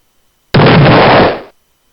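A missile blast in the puzzle game Clickomania lands as a single loud, abrupt burst of noise that holds for about a second, then fades out quickly into silence.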